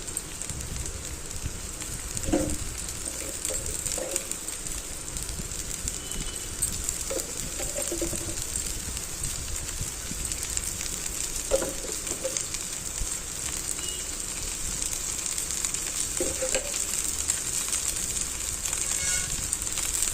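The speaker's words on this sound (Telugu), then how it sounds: "మీడియంలోనే రోస్ట్ అవ్వాలండి ఈ దోశ అనేది" Rava dosa roasting in oil on a hot pan over medium heat, giving a steady, continuous sizzle that runs for the whole stretch, with a few soft clinks and faint background sounds and no talking.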